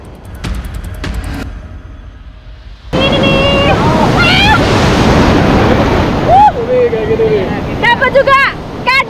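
Big ocean waves crash and surge onto a rocky shore, a loud roaring wash over heavy wind noise, with voices shouting and calling out over the surf.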